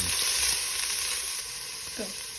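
Garlic and onion stir-frying in a hot pan for a pork stir fry, a steady broadband sizzle with occasional stirring scrapes, close and fairly loud, no voices.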